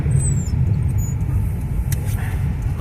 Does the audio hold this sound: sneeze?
no